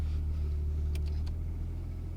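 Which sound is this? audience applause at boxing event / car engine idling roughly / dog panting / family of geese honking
car engine idling roughly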